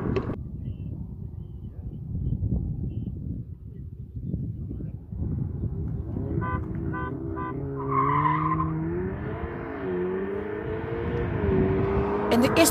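Audi Quattro RS3 and Quattro S3 cars in a drag and roll race, with engines droning steadily and revving higher as they accelerate, and a brief tire squeal near the end.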